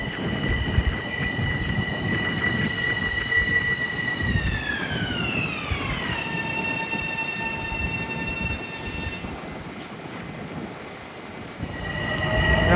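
Metro-North train 653 bound for Mount Kisco rolls past at Harlem, its steady rumble and rail noise filling the clip, with a sustained high whine that bends downward midway, then rising wheel squeal near the end.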